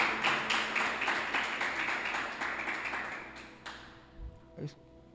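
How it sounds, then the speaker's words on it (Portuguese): A church congregation applauds, with rhythmic, steady hand claps that start fairly strong and gradually thin out and fade. A few scattered taps and a brief voice are heard near the end. "Uma salva de palmas para Jesus."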